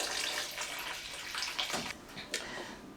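Water poured into a pot of cooking palm nut and peanut soup, a steady close splashing and trickling stream that runs continuously for a few seconds with a couple of brief louder splashes.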